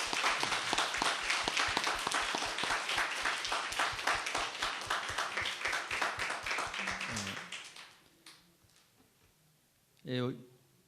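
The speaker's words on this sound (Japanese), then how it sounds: "가족들에게 우리 환영의 박수를 하겠습니다." Rhythmic, unison clapping from a gathered congregation welcoming a family, strong and evenly paced for about seven seconds, then fading out, followed by a brief voice.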